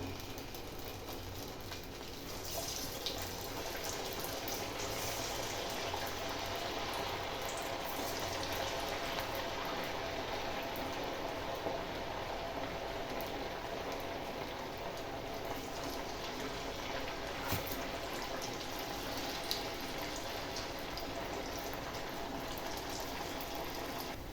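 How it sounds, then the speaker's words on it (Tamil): Sago vada made with sago, potato and roasted peanut powder frying in hot oil over a medium flame, giving a steady, dense sizzle that holds evenly throughout with no talking. "எல்லாத்தையும் போட்டு மீடியம் ஃப்ளேமில் வச்சு பொறிச்சு எடுத்துக்கலாம்"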